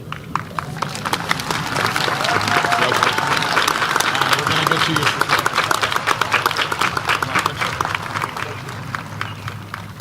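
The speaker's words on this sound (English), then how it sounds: "another round of applause for Joey and Riley" A large crowd at a 2024 high school graduation ceremony fills the space with continuous, dense clapping, steady and loud throughout, with faint crowd murmur underneath.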